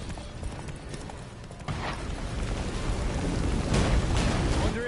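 Geralt's horse Roach gallops through a blizzard in The Witcher 3, a dense low rumble of hoofbeats mixed with wind and rushing noise that swells steadily louder over a few seconds.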